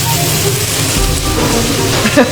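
Hot raw peanut oil sizzles steadily in a wok with a dense, hissing crackle, loud and close, ending with a faint clink.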